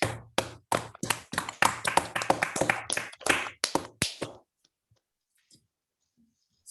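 Scattered applause from a small online seminar audience, unmuted on a video call after a university mathematics talk: uneven, overlapping claps for about four seconds, close and fairly loud, then dropping to near silence with a few faint stray clicks.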